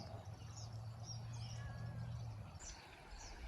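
Crows call over a wide, shallow creek, with several faint cawing bursts spread through the clip against steady outdoor noise and a low hum, heard at a distance with no talking.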